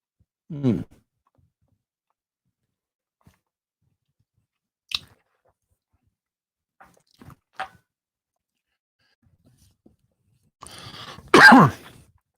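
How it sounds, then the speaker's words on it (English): A single loud cough bursts out near the end after long near-silence, with a few faint clicks and small mouth sounds scattered earlier. "Had to cough for a second here."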